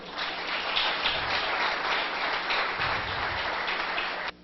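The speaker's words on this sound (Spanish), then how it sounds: "Démosle un fuerte aplauso al Señor." A church congregation gives a loud, sustained round of applause for several seconds, dense clapping from many hands that stops abruptly at the end.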